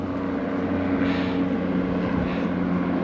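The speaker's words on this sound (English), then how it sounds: "So there's a bunch of helicopters flying, as you guys can probably hear." Firefighting helicopter flying overhead near a wildfire, a loud continuous engine drone with a low rotor rumble that swells briefly twice as it passes.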